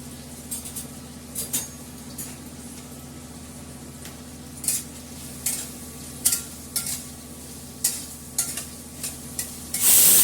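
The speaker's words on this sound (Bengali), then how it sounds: "তেলটা তেতে গেছে, পেঁয়াজটা ভাজবো।" Onions frying in hot oil for biryani, a steady low sizzle under repeated spoon scrapes and clinks against the pan, close and moderately quiet with no talk.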